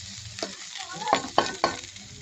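Sponge gourd sautéing with ginger and oregano in a hot pan, a soft sizzle broken by several sharp scraping stirs of a utensil, close and clear with no talking.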